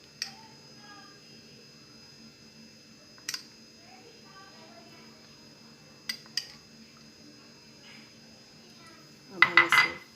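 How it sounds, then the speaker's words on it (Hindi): A spoon mixing chicken pizza topping in a bowl, heard as a few sparse clinks against the bowl at intervals, ending in a burst of louder scraping and clattering, with quiet room background between. "अब हम इसे अच्छे से मिक्स कर लेंगे।"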